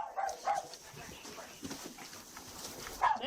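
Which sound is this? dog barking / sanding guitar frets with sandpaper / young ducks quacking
dog barking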